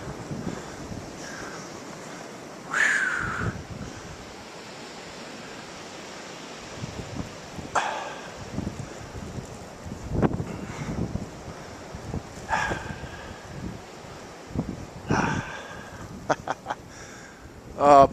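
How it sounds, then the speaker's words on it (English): Wind from the 2013 blizzard roars steadily and buffets the microphone, with harder gusts bursting through every few seconds. "Listen to that wind."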